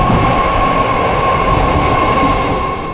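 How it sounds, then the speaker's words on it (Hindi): A BART metro train of the Bay Area Rapid Transit, a loud continuous rumble of rolling wheels with a steady high whine, close by and without any voices. "अभी मैं यहाँ मेट्रो को वेट करके बैठा है"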